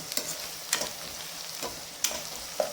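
Spices sautéed in a pan for citron rice, with a soft continuous sizzle broken by four or five sharp scraping strokes of a spoon against the pan.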